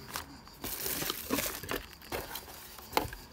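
Bubble wrap packing an OS Speed Tuned TY Tessmann II model engine crinkles and rustles up close as it is handled, with a few soft crackles and no talking.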